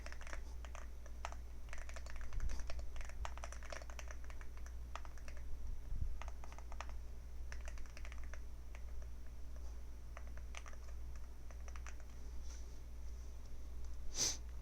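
Code is typed on a computer keyboard while writing a packet-capture parser program, with faint, steady clicks of keys in quick irregular bursts throughout, close by and alone with no talking.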